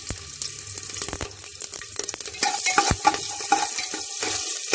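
Onions sizzling in a pan for a vegetable kuruma while a spoon scrapes and stirs them, close and fairly loud, with repeated clacks and scrapes over a continuous frying hiss.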